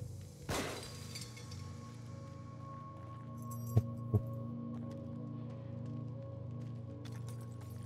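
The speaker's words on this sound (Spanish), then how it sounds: "era yo el que estaba pisando los vidrios" In the video game The Evil Within, broken glass crunches and shatters with one loud crash early on, followed later by two sharp clinks over a low, steady ambient hum.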